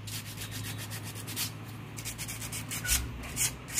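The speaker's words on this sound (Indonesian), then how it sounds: "Ukuran kecil ini amplasnya. Nah, sekarang mari kita gosok-gosok." Small sandpaper rubbed back and forth on a Honda CB150R starter motor, a soft close scratchy hiss in repeated strokes over a low steady hum, with no talk.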